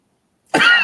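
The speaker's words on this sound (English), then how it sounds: "I've had this cough for like over 2 weeks now" One short, harsh cough bursts out abruptly after a moment of silence, close and fairly loud, from a man with a cold and a lingering cough.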